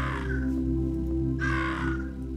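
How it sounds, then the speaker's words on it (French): Crows caw in the video game Monument Valley when clicked, two harsh calls about a second apart over a sustained low musical drone. "c'est de pouvoir cliquer sur les corneilles"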